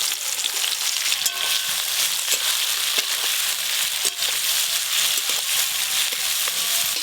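Onion rings frying in hot mustard oil for a goat meat curry: a steady, dense sizzle and crackle that runs unbroken from start to finish, close and fairly loud, with faint stirring knocks and no talk.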